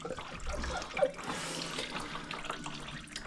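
Antifreeze coolant draining from an Audi A4 B8 radiator makes a steady, close splashing pour, a continuous watery rush with slight gurgling and no talk.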